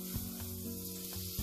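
Paratha frying in extra butter on a pan gives a steady, moderately loud sizzle throughout, with a few soft scraping touches and no voices.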